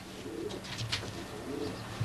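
A racing pigeon coos softly a couple of times while being held in the hand, low murmuring calls rising gently over a quiet, steady background.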